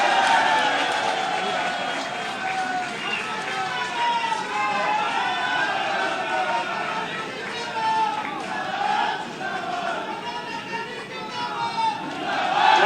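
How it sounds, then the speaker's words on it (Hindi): A crowd at a political event in Bhopal marking the launch of a new Bhopal–Rewa train roars and cheers steadily and loudly for the whole stretch, with shouting voices mixed through the dense crowd noise. "जोरदार तालियों से स्वागत"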